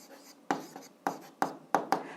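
A pen writes an answer by hand, making five or six sharp scratching strokes at irregular intervals, close and fairly quiet against near silence.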